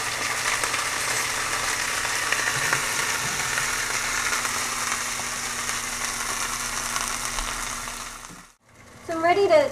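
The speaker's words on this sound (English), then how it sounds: "I want to quickly sear the outside of the meat" Roast meat searing in a hot pan, a continuous crackling sizzle running steadily at close range for several seconds before cutting out abruptly, followed by a brief voice.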